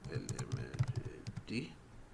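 Quick typing of a name on a computer keyboard: a brisk run of close, soft key clicks in an uneven rhythm, with a brief murmur of voice near the end.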